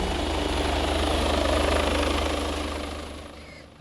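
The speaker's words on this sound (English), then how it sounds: "if not the most advanced police helicopter flying today" A loud police helicopter drones overhead in London, its rotor chopping in a fast steady pulse, then fades slightly as it moves away.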